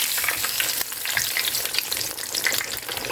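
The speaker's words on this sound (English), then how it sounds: "carefully place it in a frying pan with low heat, allowing it to cook until it turns a light golden brown" Breaded chicken cutlet frying in a pan gives a dense, steady crackling sizzle that stays loud and close throughout, with no pauses and no voices.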